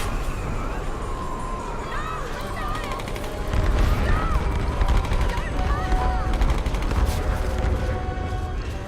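Combat in the Tomb Raider Definitive Edition video game, with rapid gunfire and explosive bursts over a dense, chaotic game soundscape, loud and continuous, intensifying partway through.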